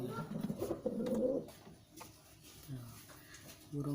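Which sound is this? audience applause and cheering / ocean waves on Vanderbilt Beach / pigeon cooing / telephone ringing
pigeon cooing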